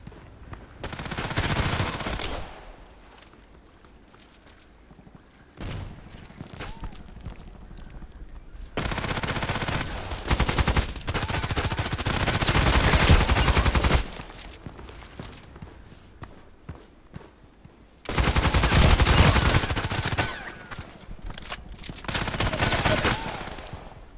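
Bursts of rapid, high-rate automatic gunfire from a contract mission in a sniper shooter game, loud and sustained in several long volleys separated by quieter gaps.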